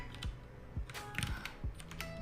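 Keys tapped on a computer keyboard while entering a command during an Arch Linux installation, a quiet series of separate clicks and clacks with uneven gaps between them.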